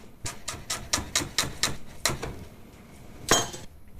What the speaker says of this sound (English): So very quickly, I want to finely chop these.